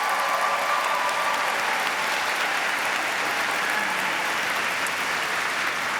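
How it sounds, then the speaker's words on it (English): A large audience gives a round of applause at a national book awards ceremony, a soft, even wash of distant clapping that holds steady throughout with no voices over it. "Can we give them all a round of applause?"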